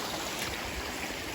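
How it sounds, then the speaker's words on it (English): A small waterfall on the Appalachian Trail gives a soft, steady rush of falling water, fairly faint and continuous, with no voices. "It looks like a little tiny waterfall."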